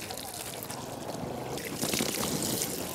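Water pours and splashes steadily across a car body being rinsed after a wash with laundry soap, a continuous close hiss that swells louder near the end.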